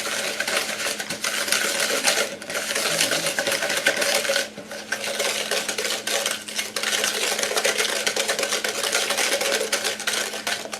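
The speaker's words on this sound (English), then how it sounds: "we're going to whisk this together until this is well combined" A whisk beats brown sugar and an egg together in a bowl, a rapid continuous clicking and scraping against the bowl that runs for several seconds, close and steady with brief pauses.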